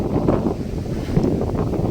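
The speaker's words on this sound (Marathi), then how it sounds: "लय मोठं वारं वावदान सुटलंय" Gusty wind buffets the microphone in a continuous rough rumble, loud and close, with no voices.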